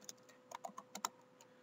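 Fast keystrokes on a computer keyboard, a quick cluster of about half a dozen soft clicks typing a compile command, close and quiet with no talk.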